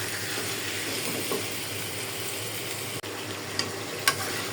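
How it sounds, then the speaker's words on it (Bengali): Snake gourd sautés with tomato and spices in a pan, a low steady sizzle with a few faint stirring clicks and one brief dropout. "চিচিঙ্গা দিয়ে দিলাম, একটু ভালো করে চিচিঙ্গা সহ কষাইয়া তারপরে জল দিয়ে দিব"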